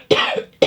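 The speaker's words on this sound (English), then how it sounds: "Excuse me while I cough." A person coughs twice in quick succession, close and fairly loud, with a short gap between the two bursts and no talk.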